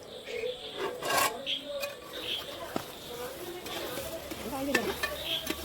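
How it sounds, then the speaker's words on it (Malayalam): A spoon stirs liver roast in a pan, giving soft scraping, rubbing strokes over a faint sizzle, with a few brief louder clinks and scrapes, heard up close. "ഒന്നും കൂടെ ഇളക്കി നല്ലപോലെ യോജിപ്പിച്ച്"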